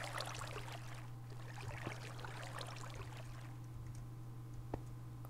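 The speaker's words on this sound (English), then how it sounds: "I like the little waterfall" A small waterfall in Minecraft, a steady soft rush of flowing water with a low constant hum beneath it, continuous and unbroken, with one faint click near the end.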